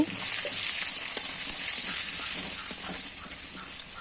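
Potato pieces frying with salt and turmeric make a loud, steady hissing sizzle up close, broadband and unbroken, with a couple of soft stirring knocks rising briefly out of it.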